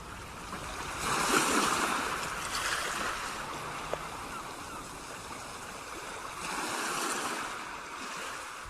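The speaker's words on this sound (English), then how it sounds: "When I close my eyes, I can hear the sea." Sea waves washing onto a beach as a radio drama sound effect, a soft, distant surf wash swelling and receding in slow surges, faint and without speech.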